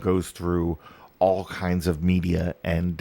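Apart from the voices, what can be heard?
No distinct noise like a dog, phone or traffic.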